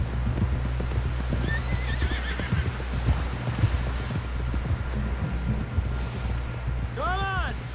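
Horse galloping and neighing in the video game Red Dead Redemption 2: steady hoofbeats run throughout under wind, with high whinnies near the start and a louder, closer neigh near the end.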